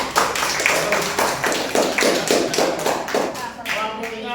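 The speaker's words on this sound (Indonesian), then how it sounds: "Oke, tepuk tangan." A primary school class clapping hands in a rhythmic pattern, bursts of claps in a regular beat, close and loud, with children's voices chanting along.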